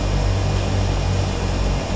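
A turbine-powered Beechcraft Duke in a flight simulator holds its engines at high RPM while taxiing, producing a steady, loud, continuous drone with a low throbbing hum and no voices.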